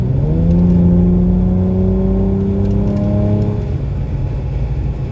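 A car with its exhaust mode switched on pulls a roll from around 70 mph at less than full throttle. The loud, steady engine drone climbs smoothly in pitch, then eases off, with no talking.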